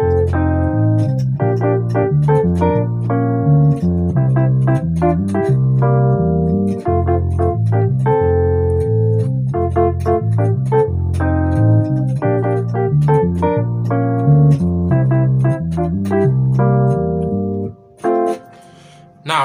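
A highlife groove played on an instrument, a steady, busy pattern of layered bass and chord notes repeating throughout at even loudness, then a brief drop near the end.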